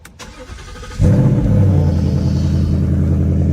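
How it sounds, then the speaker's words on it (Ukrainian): A Ford Mustang GT engine cold start: it cranks briefly, then catches and roars to a loud, steady idle with deep rumble that holds for the rest of the clip. "Так, зараз буде холодний старт."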